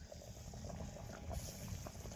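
Fish curry made with glass carp bubbles and boils in a pot, a close, continuous gurgling simmer without talk.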